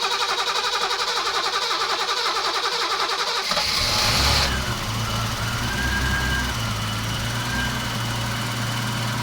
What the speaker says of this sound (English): Now we can just hope the car runs and no fuel squirts out and all cylinders work.